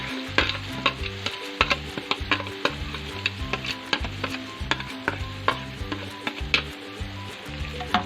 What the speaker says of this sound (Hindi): हम इसे अच्छे तरीके से हिला के इसके बाद 5 मिनट के लिए हम इसे ढकना दे देंगे।